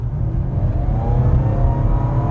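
A 2016 Nissan X-Trail hybrid with a 2-liter engine accelerating in sport mode, steady close engine drone with rising whir and strong low rumble throughout, no talk.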